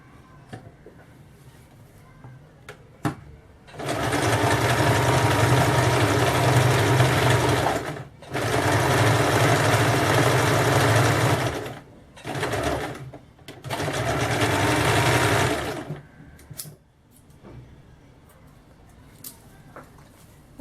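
A sewing machine runs double rows of stitching along the piping on a dress in three long loud bursts with short pauses between them, and a quieter buzz follows near the end.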